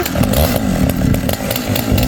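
A large vintage chainsaw from a collection runs loud and close, a continuous raspy two-stroke roar with quick rises and dips in revs.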